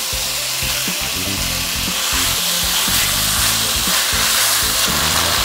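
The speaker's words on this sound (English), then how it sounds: "Place the beef in the skillet. Stir fry over high heat." Beef stir-frying in a hot skillet over high heat, a loud, steady sizzle that fills the whole stretch with dense crackling and spitting.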